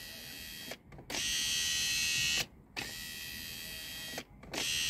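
An electric window motor from an Austin Ambassador Vanden Plas runs in three sustained whirring bursts, each separated by a brief pause, loud and close on a workbench.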